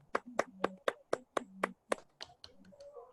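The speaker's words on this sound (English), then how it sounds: "Give her a round of applause." A handful of sharp, separate claps in a loose rhythm close to the microphone, a small round of applause after an academic mathematics talk at a combinatorics conference, fading into a few softer claps.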